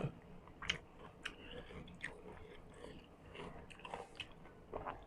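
Crisp, crunchy food being bitten and chewed close up during a meal with soup, with a series of sharp crunches repeating irregularly over several seconds and no talking.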